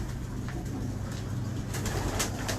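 Pigeons coo softly and repeatedly in a loft of prized breeding birds, the low throaty calls blending into a steady background hum without any talking.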